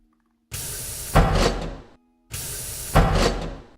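A voice imitates the sliding doors on sci-fi tabletop terrain with two identical hissing whooshes, each rising into a louder burst before cutting off, close and clear.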